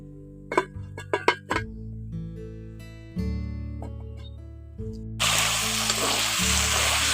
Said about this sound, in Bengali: আমি এখন চিকেনটাকে ঢাকা দিয়ে দিয়ে আমি অনেকক্ষণ ধরে কষে নেব।